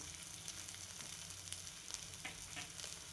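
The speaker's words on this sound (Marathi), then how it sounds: "आणि छान परतून घेते अशा प्रकारे छान भाजून घ्यायचं" Ground peanuts sautéing in a pan for a fasting-style stuffed chilli bhaji, giving a steady, soft sizzle and crackle with scattered light ticks and scrapes throughout.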